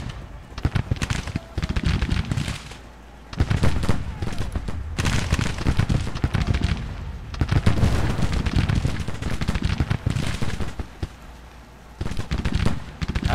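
Dense cannon booms and crackling rifle volleys from a Civil War battle in the strategy game Grand Tactician: The Civil War, loud and continuous with overlapping bursts and brief lulls between heavy barrages.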